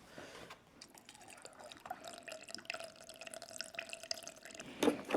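Purified drinking water pours into the cooling tank of an xTool P3 laser, a faint steady trickle with small drips and splashes, growing slightly louder toward the end.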